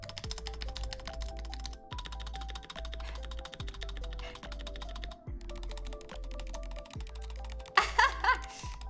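Typing on a mechanical keyboard, a steady stream of clacky keystrokes running close and continuous for the whole stretch over a low steady hum, with a brighter burst of clicks near the end.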